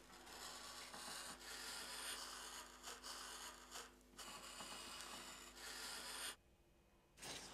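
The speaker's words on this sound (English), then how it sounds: "You can either use a pair of scissors or you can use a craft knife like this" Craft knife slicing through card while cutting out a pop-up house birthday card piece, heard as a steady close scraping and rubbing with short pauses and a brief gap near the end.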